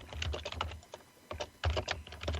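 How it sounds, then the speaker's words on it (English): Bursts of typing on a computer keyboard, quick irregular key clicks in clusters separated by short pauses, fairly close and clear. "I see we're still typing"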